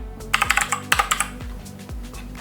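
Keys clatter on a computer keyboard in two quick bursts of several close, crisp taps each, with a low electronic hum underneath and no talking.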